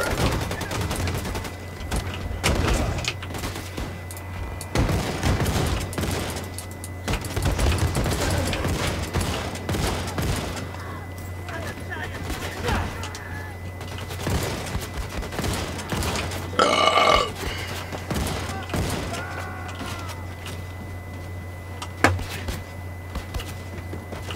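Gunfire and explosions from Wolfenstein II: The New Colossus, a video game, with bursts of shooting and heavy booms over a steady low game hum, a sharp loud burst near the end.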